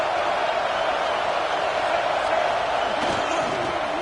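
A football video game stadium crowd roars in a steady, dense wash from start to finish, with no clear breaks or peaks, while the home side sits at first and goal from the one-yard line.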